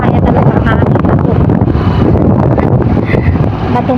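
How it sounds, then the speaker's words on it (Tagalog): Strong wind buffets the microphone near a rough sea on the road to Santa Elena, Talisay, a loud steady roar with gusty surges throughout, and a voice is faintly heard beneath it. "Matumban na sa sobrang hangin po."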